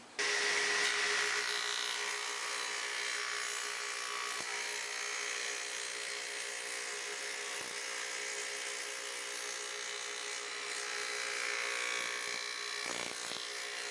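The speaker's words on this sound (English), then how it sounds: "I have to feed the stock opposing the rotation of the blade" A power saw blade cuts a rabbet along wood stock, giving a continuous high, loud whine that holds steadily throughout with a few brief dips, and no talking.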